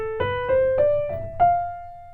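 A keyboard plays a short stepwise ascending line of single notes in Lydian mode, five clear attacks each ringing into the next, close and unaccompanied.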